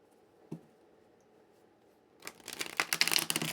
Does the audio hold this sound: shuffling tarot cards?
yes